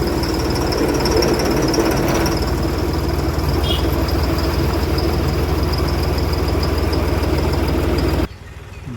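A tractor idles in a queue at a mill, a steady close diesel rumble that holds evenly for about eight seconds before cutting off abruptly near the end.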